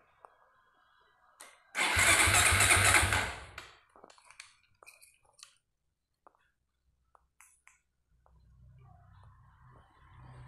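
A Suzuki Satria FU 150 motorcycle cranks with a loud rough starter burst lasting about two seconds, then dies back to small clicks and handling noises before a low engine idle rumbles in toward the end.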